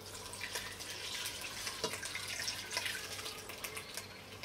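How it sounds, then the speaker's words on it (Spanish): Water runs steadily into a cooking pot to cover meat and red wine for a beef stock, a continuous close splashing and trickling pour with small drips, no voices over it. "Y ahora cubrimos de agua."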